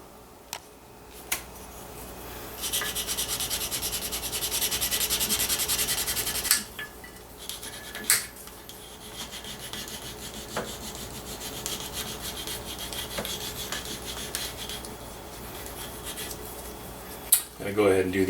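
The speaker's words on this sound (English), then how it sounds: "use the burnishing tool on the back here to smooth this out" A burnishing tool rubs along the back of a custom leather knife sheath in a close, steady scraping stroke, with a few brief knocks and short pauses between passes.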